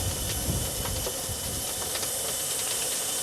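Steam hisses steadily and loudly from the injector of a Tasker showman's traction engine, a continuous close rush with faint rhythmic clanks beneath.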